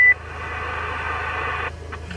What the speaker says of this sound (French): le Roger Bip il est bien percutant lui